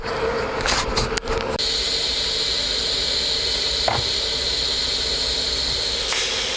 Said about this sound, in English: I think the idea is we just tack it as it is.